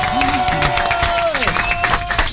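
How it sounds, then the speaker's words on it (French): Studio audience applause and cheering for a ten-year-old boy guest on a radio show, a loud steady crowd wash with tonal music and sliding synth tones running through it. "Est-ce qu'on peut l'applaudir, Arthur, 10 ans?"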